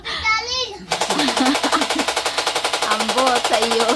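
A toy zombie gun fires a rapid, steady burst of electronic machine-gun shots lasting several seconds, loud and close, after a brief voice at the start.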